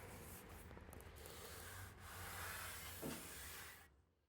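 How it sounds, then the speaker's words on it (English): Steady, close abrasive rubbing of sanding across a dried cherry wood bench glue-up, continuous and even for a few seconds before stopping abruptly. "The next day, the glue up was dry and it was time to start sanding."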